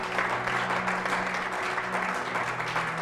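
A church congregation claps steadily in worship, dense continuous applause at moderate level with a faint sustained tone underneath and no voices over it.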